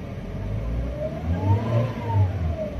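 A 2017 Toyota Agya TRD automatic with low mileage, its engine revved while stationary, rising in a few swelling pulses over a steady idle hum, near and moderately loud.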